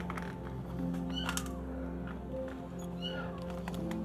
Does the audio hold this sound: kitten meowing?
yes